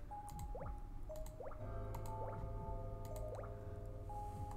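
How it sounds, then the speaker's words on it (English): Water drips and squishes onto a plant in a pet-shop video game, a few soft gurgling drops with rising pitch slides over a quiet low hum. "Some water for you, little plant."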